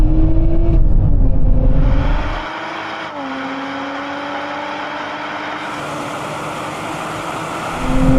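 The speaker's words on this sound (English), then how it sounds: "That Lotus is going. Will that Toyota catch it up?" Lotus and Toyota cars accelerate hard in a drag race, one loud engine note rising in pitch, dipping at a gear change and climbing again, then easing off into a steadier drone before swelling back up.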